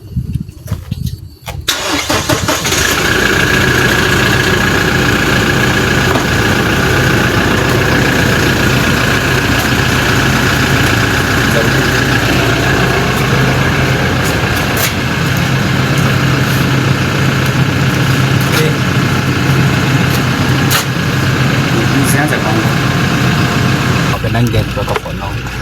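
A 2018 Toyota Land Cruiser Prado engine cranks and catches after a short silence, then settles into a loud, steady idle that runs for over twenty seconds.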